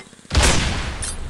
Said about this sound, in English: Oh, spread cannon.